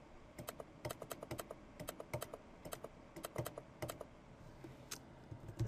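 Steady typing on a computer keyboard while entering a chart title in an Excel spreadsheet, with quick bursts of crisp key clicks and short pauses, close and clear, no talking.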